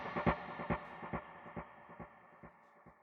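Soft electric guitar notes pluck in a steady rhythm, each trailing into dotted-eighth and quarter-note delay repeats with modulation and a wash of reverb, fairly quiet throughout.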